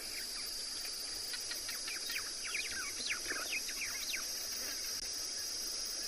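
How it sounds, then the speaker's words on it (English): Distant white-browed sparrow weavers chatter in quick, high chirping bursts at sunset on safari, over a faint, steady background hiss and a continuous high insect-like drone. "Can hear the white-browed sparrow weavers in the distance saying goodnight."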